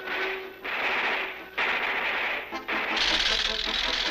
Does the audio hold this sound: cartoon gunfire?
yes